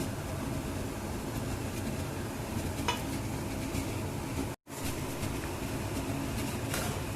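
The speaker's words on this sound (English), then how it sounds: "I am stirring it continuously, keeping in medium flame" Semolina for rava upma being stirred continuously in a pan over a medium flame, a steady dry scraping and rustle running throughout with a faint sizzle underneath and one brief dropout near the middle.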